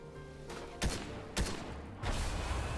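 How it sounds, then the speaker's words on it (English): Bursts of SMG gunfire in Fortnite: a few sharp, fairly close shots spread over a few seconds over a steady background of game ambience. "I'll snipe him with my SMG"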